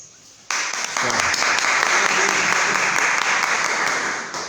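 Applause breaks out abruptly after a brief quiet moment at a Spiritist talk and holds steady and full, easing slightly toward the end, with faint voices underneath.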